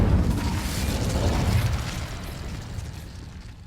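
Casting the Incendio fire spell in Hogwarts Legacy sets off a whooshing burst of flame that flares at once and then gradually fades over a few seconds.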